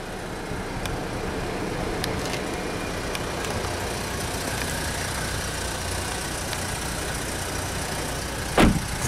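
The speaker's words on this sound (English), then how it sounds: "Car is on as we speak." A 2011 Buick Regal engine idling, a steady, even low rumble heard from close by with no revving, plus a short knock near the end.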